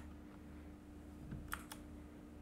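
A few faint, quick keystrokes on a computer keyboard, two or three soft clicks close together against a quiet room hum.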